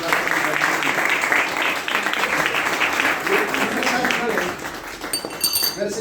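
Audience applause at a closing event for achievers, a crowd clapping steadily and loudly for about five seconds before thinning out, with a few voices mixed into the noise.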